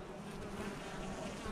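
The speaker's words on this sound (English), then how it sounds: "the massive rosemary, which I call the beehive, because as you can see, it literally hums" Bees swarm a massive rosemary bush in an autumn permaculture garden in Perth, Australia, giving a steady, soft, continuous buzzing hum with no voices.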